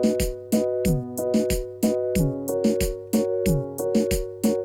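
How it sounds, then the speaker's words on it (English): A programmed beat with a crisp closed hi-hat ticking on each upbeat between punchy kick and bass hits, a steady danceable groove in a studio production. "This hi-hat is on the and, on the upbeat."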